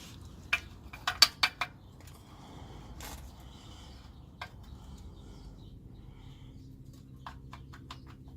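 A 17 mm socket on a ratchet removing the oil drain bolt of a 2015-2017 Kia Sedona with a 3.3L V6, heard as a few sharp metallic clicks and clinks in quick succession, then scattered lighter taps against a quiet background.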